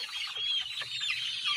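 Hen in a brooder with chicks, giving busy clucks close by amid a steady stream of high chick peeping.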